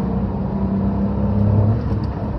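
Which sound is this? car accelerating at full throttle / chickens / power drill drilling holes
car accelerating at full throttle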